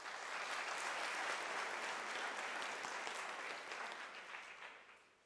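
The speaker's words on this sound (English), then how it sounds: "Shall we please give him another round of applause?" Sustained audience applause fills a graduation ceremony hall, loud and steady throughout before gradually tapering off near the end, with no talk over it.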